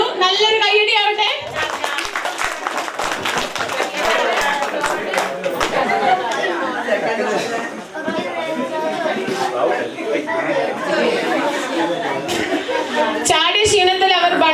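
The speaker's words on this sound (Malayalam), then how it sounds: "നല്ലൊരു കയ്യടി ആവട്ടെ." Audience applause and cheering at a parish unit Christmas celebration after the last round of a contest, bursts of clapping and crowd chatter with children's voices, loud and close, with a voice heard at the start and end.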